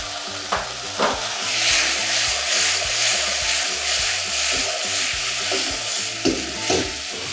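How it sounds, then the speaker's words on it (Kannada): Fried potato pieces being stirred into sizzling aloo Manchurian gravy in a pan: a steady close sizzle with repeated scraping stirs and soft clatters throughout, no talking. "ಇವಾಗ 10 ಪೀಸಸ್ ಆಫ್ ಫ್ರೈಡ್ ಪೊಟ್ಯಾಟೊ ಹಾಕಬೇಕು"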